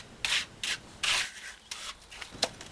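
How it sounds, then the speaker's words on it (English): Float smoothing a freshly levelled wet concrete slab before tamping: several separate scraping sweeps, each a brief rough swish, close and clear with short pauses between. "giving it a final smooth float before we start the tamping"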